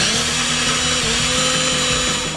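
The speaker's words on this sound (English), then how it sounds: "we're going to add half of it to the blender. And this is where we're going to get it nice and pureed." A kitchen blender runs steadily, pureeing a thick, chunky tomato-based pasta sauce with walnuts and pumpkin, a loud continuous whirring motor with a pulsing low churn throughout.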